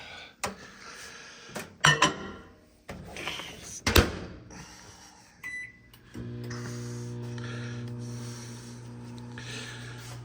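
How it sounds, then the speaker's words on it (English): Several clatters and knocks of dishes and a door, then a steady low microwave hum runs continuously through the rest, close and even, as a latte is heated for about 10 seconds. "put it in the microwave for like 10 seconds, give it a little more heat"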